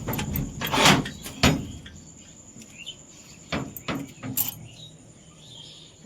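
A wooden door is opened in the morning at a rural home, giving a few sharp knocks and creaks spread across several seconds, set against a faint background of birds and insects.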